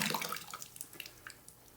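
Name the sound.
pouring RIT dye into water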